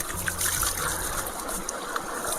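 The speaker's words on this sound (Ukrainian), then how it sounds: "Як добре, що є біля маршруту річка поруч." A mountain river flows beside a summer hiking route in the Gorgany range of the Carpathians, giving a steady, moderately quiet trickling and rushing wash with no talk.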